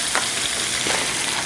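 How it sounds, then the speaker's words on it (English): Crushed ramen noodles fry in melted butter in a skillet, making a steady loud sizzle with faint stirring scrapes, close by. "I'm going to add in our crushed ramen noodles"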